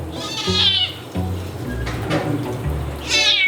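A cat meows loudly during a warm antifungal bath, two drawn-out, distressed cries at the start and end, with low sloshing and handling noises in between.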